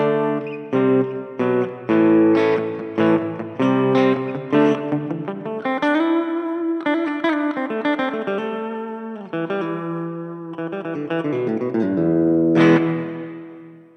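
An electric guitar through a NUX Mighty Lite BT modeling amp plays a melodic run of notes and chords, with a roomy reverb tail ringing behind each phrase, steady and fairly loud.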